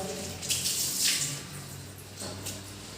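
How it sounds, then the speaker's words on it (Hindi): Water splashing and running from a tap as hands scoop it onto the face for wudu ablution, a steady close wash with bursts of splashing. "ये चेहरा धोते हैं यूं पानी लेकर"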